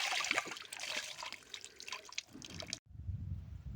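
Running water from an outdoor tap splashes while dishes are washed outside in a cold rural village yard, a steady close trickle and spatter that cuts off abruptly near the end, leaving a low rumble.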